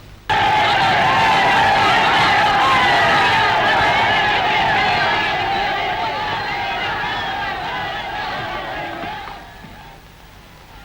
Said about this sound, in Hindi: महाराणा, लोगों की भीड़ बराबर बढ़ती ही चली जा रही है। वे लोग उत्पात कर रहे हैं।